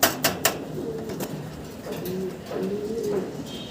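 Paired pigeons in a loft, the male giving repeated soft cooing calls, close by and moderately loud, with a few sharp knocks near the start.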